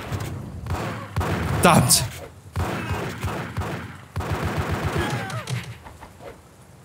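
Gunfire in the video game GTA Chinatown Wars, repeated bursts of shots and thuds in uneven volleys, with someone speaking German over the game sounds.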